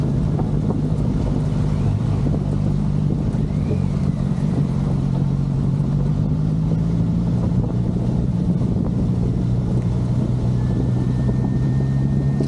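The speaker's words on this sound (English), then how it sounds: "you can probably hear some of these wooden boards aren't even bolted down" A motorcycle engine drones steadily while crossing the Barmouth wooden railway bridge, whose loose boards rattle underneath, all mixed with heavy wind buffeting the microphone and no talking.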